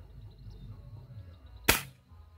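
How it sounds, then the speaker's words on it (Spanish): A single sharp crack of an air rifle firing an explosive diabolo pellet, loud and abrupt against quiet outdoor background hum, with a short decaying tail. "Disparo número 3."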